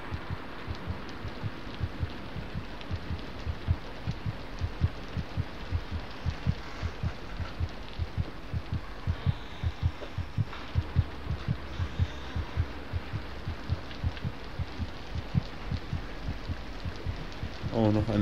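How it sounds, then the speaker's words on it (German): Steady rhythmic heartbeat thudding throughout a dark scene in the horror video game Among the Sleep, low and regular pulses under a faint ambient hum, with no voices. "Ich höre auch einen Herzschlag."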